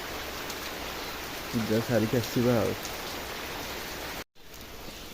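Heavy rain pours steadily outside a temple, a dense continuous hiss close by, with a brief stretch of talking partway through.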